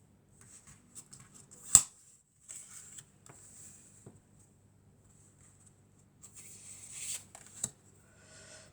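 Tarot cards handled and drawn from a deck: sparse, soft rustles and slides, with a sharp card snap near the start and another flurry of shuffling toward the end, close and otherwise quiet.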